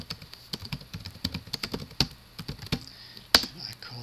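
Someone types a command on a computer keyboard in a steady run of quick, irregular, close clicks, ending with one sharper tap near the end.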